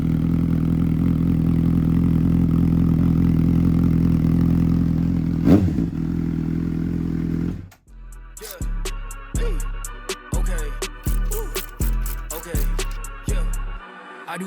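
A Honda CBR 600RR with a DPM carbon racing exhaust idles loudly up close. It then cuts out briefly before a rapid sequence of about seven sharp throttle blips, each rising and falling away.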